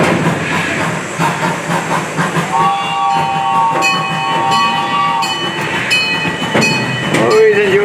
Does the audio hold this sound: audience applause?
no